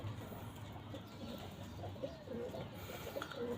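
A blue male pigeon and his beige mate kept as domestic birds, with soft low coos repeating several times close by over faint background hum.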